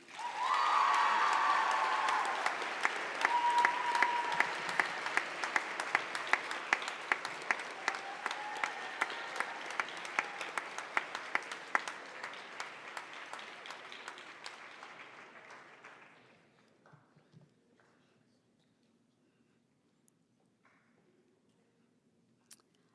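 Loud applause from an audience at a school honors day award ceremony, a dense burst of clapping that holds steady for about fifteen seconds and then trails off into scattered claps and near silence.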